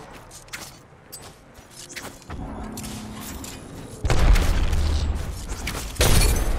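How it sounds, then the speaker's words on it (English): Heavy airstrike explosions in the video game Apex Legends land as a few deep booms, each swelling into a sustained rumbling roar, with the last blast loud and close. "Nice fucking airstrike."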